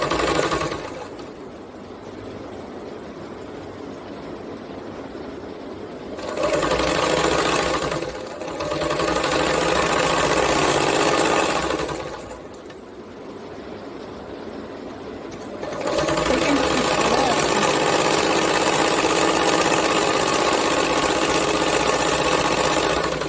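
A sewing machine stitches a blouse sleeve in three long runs, a close steady mechanical whir with short quiet pauses between bursts.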